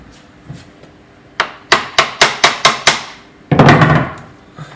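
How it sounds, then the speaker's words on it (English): A hammer tapping a kitchen cabinet to level it during a kitchen fit: a quick run of about eight sharp close knocks on wood, then a heavier scraping thump. "You just give it a little tweak with hammer"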